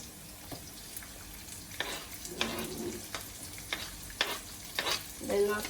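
Curry leaves and onions sizzle in a frying pan for an ivy gourd fry, a quiet steady hiss broken by louder bursts of stirring and scraping that come every second or so.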